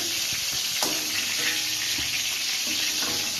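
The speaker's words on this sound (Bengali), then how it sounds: "পটলগুলো একদম ভাজা হয়ে গেছে" Steady, loud oily sizzle of pointed gourd frying in a pan, broken by occasional scrapes and stirring knocks.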